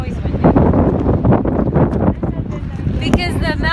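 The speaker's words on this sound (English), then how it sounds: "It's always windy." Strong wind blowing beside a lake close to mountains, a loud continuous buffeting rush across the microphone with gusty swells, and people's voices mixed in over the roar.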